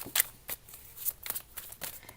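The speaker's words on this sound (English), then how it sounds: "These are my own like playing cards, so sometimes they're really difficult to shuffle." Personal deck of playing cards being shuffled close up, several quick riffling bursts in uneven rhythm with soft papery flicks between them.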